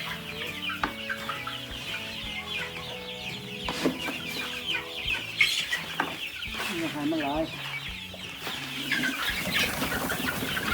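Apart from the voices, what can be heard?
Pradu Hang Dam black-tailed chickens clucking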